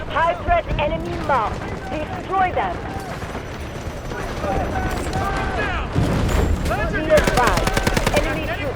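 Rapid bursts of SMG-45 submachine gun fire in the video game Delta Force, loud and close, with repeated rattling volleys and distant battle sounds.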